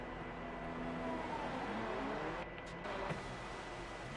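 A Formula 2 race car engine in a racing video game, held at a steady mid-level drone as the car pulls out of the pits and into the second corner at the Azerbaijan circuit, with a brief dip partway through.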